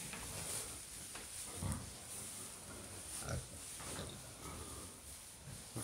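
Pigs bedded in deep straw in an open-sided hog barn in winter grunt and snort close by in short, irregular bursts over a steady background hiss.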